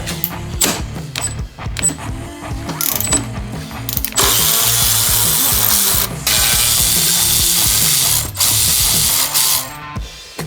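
Ratchet wrench clicking in fast bursts while a broken bolt is worked out of an abused Suzuki RM125 dirt bike, with steady loud ratcheting in the second half, close and without talk.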